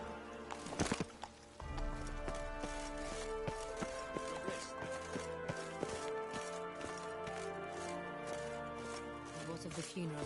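Horse hooves clip-clopping steadily as Geralt rides his horse Roach in The Witcher, a repeated rhythmic trot beneath game music and ambience.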